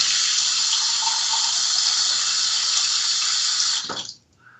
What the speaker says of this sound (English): We're just going to fill the bowl with water.